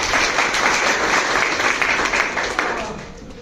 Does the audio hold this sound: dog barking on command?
no